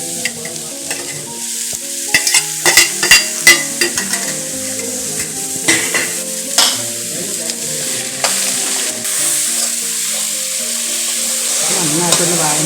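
Oyster mushrooms sauté in a hot pan, a steady hiss of frying with repeated scraping and stirring clatter from a utensil, close and fairly loud, with no talking.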